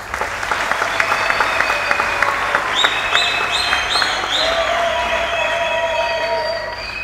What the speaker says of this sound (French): je vous demande encore une fois d'applaudir très fort